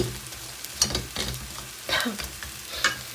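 Vegetables being fried and stirred in oil in a pan give several scraping, rustling bursts of stirring over a low, steady sizzle, close and fairly quiet.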